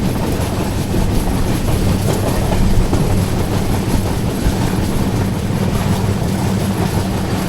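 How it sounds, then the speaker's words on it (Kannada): A Murudeshwar–Kacheguda superfast express train rushes past, a loud, continuous close rumble and roar of rail wagons with faint clickety-clack, no talking. "ಮತ್ತೊಂದು ಟ್ರೈನ್ ಲೂಪ್ ಆಗೈತೆ ನೋಡ್ರಿ ಇಲ್ಲಿ"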